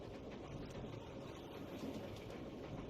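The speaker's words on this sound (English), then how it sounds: "It makes you really feel like you're on a moving train." A moving train aboard in Resident Evil 0 gives a steady low rumble and rolling rail noise, constant and even throughout with no voices.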